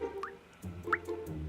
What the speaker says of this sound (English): listening to the faucet drip, listening to water fill a bathtub